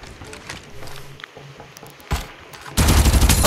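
Gunfire in the Farlight 84 battle royale video game: scattered shots early, a sharp blast, then a loud sustained burst of rapid automatic fire at the end.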